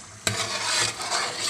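Chopped tomatoes cooking in oil in a pan for chicken pulao biryani, giving a steady close sizzle with stirring scrapes after a sharp onset, continuous and fairly loud with no talking.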